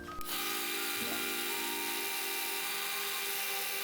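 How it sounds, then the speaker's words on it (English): A belt sander runs steadily on a wooden glide bait lure body, giving a loud, continuous whirring grind that starts abruptly and holds without a break. "So I'm gonna jump over to belt sander and we're going to do some work on the back half of the bait."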